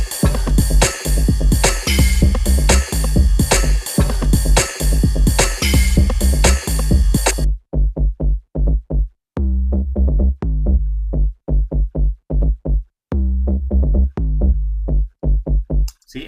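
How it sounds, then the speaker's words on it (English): Synth bass line with a drop bass sample added, a dense full-band electronic passage for about seven seconds, then a bare, punchy bass pattern of short repeated hits with gaps. "I built like a little bass line that also has a drop sound."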